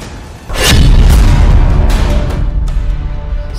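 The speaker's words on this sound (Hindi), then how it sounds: "मिसाइल ब्लास्ट से शुरू हुआ।" Missile blast explosion used as a sound effect in a news report, a heavy booming impact erupting after a short lead-in and rolling on as a loud, sustained rumble.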